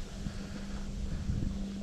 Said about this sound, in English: that's fucking windy as shit